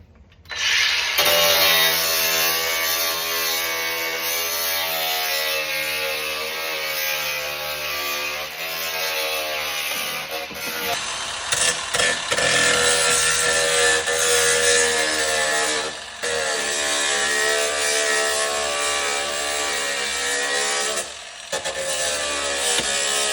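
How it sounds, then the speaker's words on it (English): A power sander works down car bodywork before JB Weld is applied, a loud, continuous, close-up whine that wavers in pitch, drops out briefly twice, then picks up again. "let me finish sanding this down"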